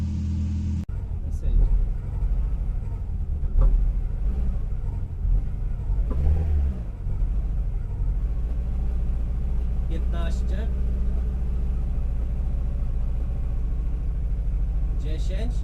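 A racing car's engine, overheating during a super sprint event in Wadowice Górne, rumbles close up and revs in short bursts, with a voice talking over it.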